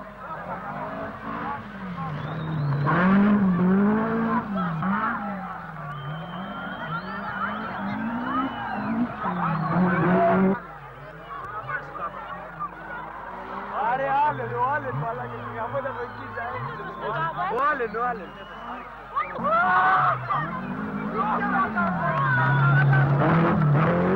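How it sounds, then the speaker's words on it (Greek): A Toyota Celica rally car on an Acropolis Rally stage, its engine rising and falling through revs and gear changes as it passes, with a commentator talking over it throughout. "Βάλντεγκαρ αυτή τη φορά, σε αντίπαλη ομάδα, πρώτη του επίθεση με το Ιώτα Σέλικα. Δυστυχώς όμως το μοναδικό του πέρασμα που είδαμε ήταν αυτό."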